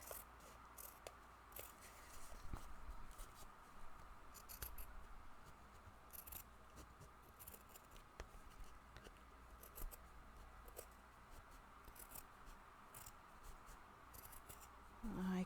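Scissors snipping through paper or card with wet glue smeared on the blades, in a quiet craft session; a steady run of soft, close cutting and rubbing sounds across the whole stretch, faint and without talk.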